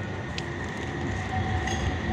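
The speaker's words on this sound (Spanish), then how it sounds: "Bueno, ahora estamos en tranvía." Tram ride heard from inside the car, a continuous rolling rumble with faint high squeal tones as it nears a stop, no voices.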